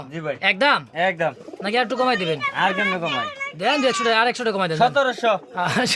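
Sirazi pigeons, a breeding pair offered for sale, coo in low repeated bursts, mostly buried under loud, continuous nearby talk.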